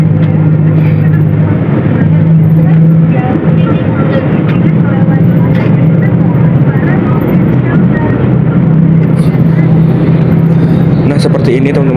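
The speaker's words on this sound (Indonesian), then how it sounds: "suasana dan kondisi bus Transjatim" Interior of a Trans Jatim city bus riding between Batu and Malang, with a continuous low engine rumble and road noise throughout, under steady talk.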